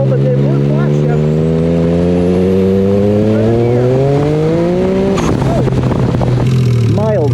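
A car fitted with a new transmission and rear end accelerates hard through flat-foot shifts, its loud engine note climbing steadily, breaking abruptly at each shift, then climbing again, with voices talking over it.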